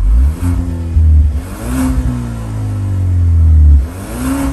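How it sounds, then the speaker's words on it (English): A 2022 Genesis G70 2.0T revs its exhaust in several loud, close rising and falling swells, each climbing and settling back to a deep idle burble, with no talking. "this is how the exhaust sounds."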